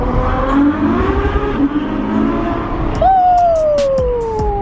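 Ferrari F12 engine revving hard inside a tunnel in Utah, a loud sustained roar that builds, then a sharp high-pitched rising howl around the three-second mark, echoing and held to the end, with a voice briefly under it.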